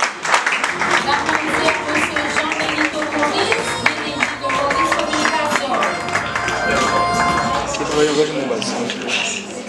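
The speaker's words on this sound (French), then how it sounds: "Sur vos applaudissements, s'il vous plaît." Audience applause at a competition final, dense continuous clapping from a crowd that stays loud throughout, mixed with crowd noise and voices.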